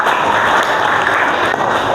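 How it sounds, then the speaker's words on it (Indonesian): Classroom applause for a student named Kenan during an Islamic religious education lesson, a brief, loud, continuous patter of many hands clapping at once. "Tepuk tangan lagi untuk Kenan"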